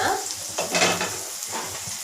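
Onions fry in a pan with a loud, close, crackling sizzle, and a few stirring scrapes and clatters rise above it.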